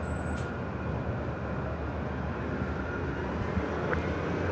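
A SkyWest Embraer E175 jet on its takeoff run from runway 24 left at Los Angeles International Airport, heard as a steady low roar from some distance that stays at a fairly constant level throughout.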